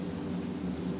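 A compressor machine runs in the video game Sniper Elite 3 Africa, a steady low droning hum that holds constant and loud throughout the brief moment.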